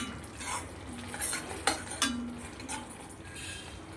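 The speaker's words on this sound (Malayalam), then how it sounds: "എല്ലാം കൂടി ഒന്ന് ഇളക്കി കൊടുക്കാം." Ginger curry pickle is stirred in a pan, with soft scrapes and an occasional metallic clink from the spoon against the pan over a faint sizzle, close and unhurried, with no voices.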